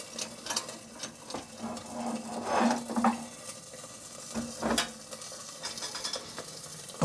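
Beef roast sizzling in a pan on a wood burning stove, a soft steady fry with scattered metallic scrapes and clinks of pan and utensil, close and moderately quiet.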